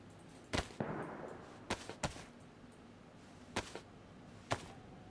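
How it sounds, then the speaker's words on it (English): Gunshots ring out in a video game, about five sharp, separate cracks spaced irregularly over a few seconds, fairly faint and distant-sounding against a quiet background. "My friend's hearing all those gunshots too"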